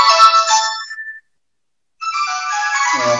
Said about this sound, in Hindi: किसी का फोन बज रहा